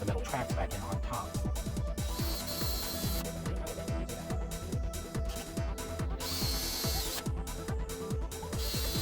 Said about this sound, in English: I'm going to drive a couple of pilot holes and then I'll put a couple of stainless steel screws in there